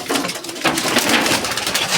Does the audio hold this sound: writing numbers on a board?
no